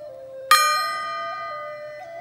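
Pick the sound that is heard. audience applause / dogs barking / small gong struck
small gong struck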